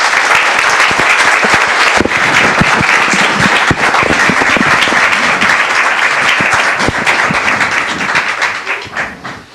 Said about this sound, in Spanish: al doctor Lozada Goya, les pido que me ayuden a dar la bienvenida con un fuerte aplauso.